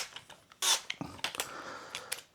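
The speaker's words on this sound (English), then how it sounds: "And then you put the screws back in." Small screws are fitted back into a Traxxas Drag Slash RC car with a Toyota Supra body, heard as brief close clicks, scrapes and taps in an irregular rhythm, no talking.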